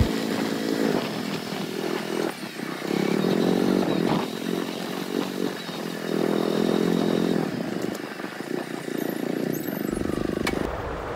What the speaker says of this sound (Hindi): चलते हैं बाइक लेकर अंदर।